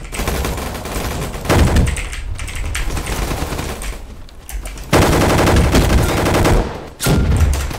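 Rapid gunfire from the Roblox game Gunfight Arena rattles loud and dense in sustained automatic bursts, with brief drops between volleys and no speech.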